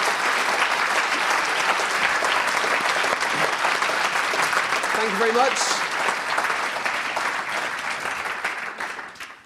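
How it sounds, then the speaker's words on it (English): A large audience at an AXA Research Fund annual ceremony gives postdocs a sustained, loud round of applause filling the room, with a brief word of thanks spoken over it before the clapping fades at the end. "give them a huge round of applause"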